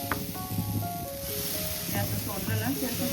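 Uttapam batter sizzles on a hot tawa, a steady crackling hiss that runs throughout while a person talks over it.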